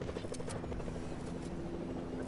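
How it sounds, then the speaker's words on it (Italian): A Fortnite helicopter whirs at a steady rhythm, its rotor chop close and continuous under the game's other sounds. "Elicottero."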